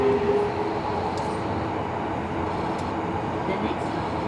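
A Tobu 70000 series train on the run between Naka-Meguro and Kita-Senju, heard from inside as a steady, loud rumble and rolling roar with faint high squeals, continuous throughout.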